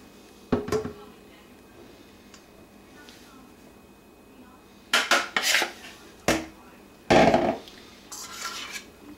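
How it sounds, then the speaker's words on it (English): A spoon scrapes and clanks against a bowl in bursts while pizza dough ingredients are mixed in a home kitchen, the clatter loud and close between quiet pauses. "I'll just mix it together a little bit with the spoon"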